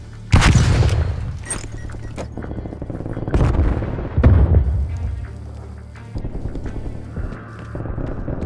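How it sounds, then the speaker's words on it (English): Flashbang grenade going off during a Call of Duty: Black Ops Cold War team deathmatch: a sharp, loud bang followed by two more booming bursts a few seconds apart over a steady hum of game noise. "Throwing flashbang."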